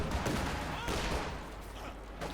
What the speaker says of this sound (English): Even the will of Stalin can't keep it up forever under the battering of German night artillery.